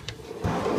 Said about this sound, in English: unlatch the whole drawer system